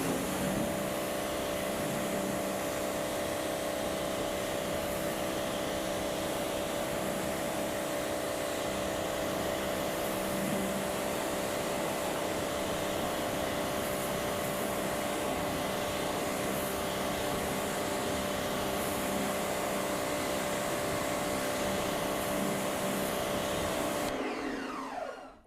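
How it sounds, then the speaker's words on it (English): A pressure washer rinses a car wheel and tyre, giving a constant, steady motorised whine and hiss. It holds even for about twenty-five seconds, then cuts off abruptly at the end. "So now let's rinse this off again"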